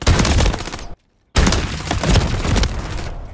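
A Bryson 890 pump-action shotgun from Modern Warfare III fires with loud, dense blasts that fill the sound, broken by one brief total silence before the roar resumes, with no talking.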